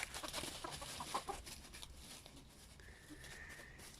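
Hens cluck softly in short, scattered calls against an outdoor village background, fairly quiet and a little distant.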